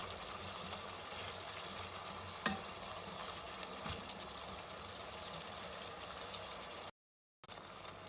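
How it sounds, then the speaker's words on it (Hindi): Carrots frying in a pan for fried rice, a continuous soft sizzle with occasional stirring scrapes and one sharp clink, then a brief cutout near the end. "अब इसके अंदर मैं गाजरें ऐड कर दूंगी। और इसको भी 2-3 मिनट तक पकाऊंगी।"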